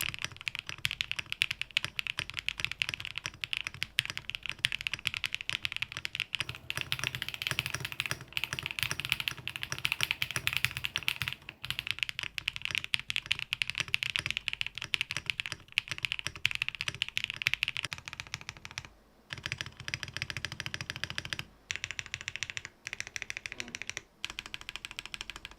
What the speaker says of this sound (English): So this is the Fox 65, and here's how it sounds.